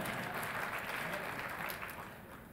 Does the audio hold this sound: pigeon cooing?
no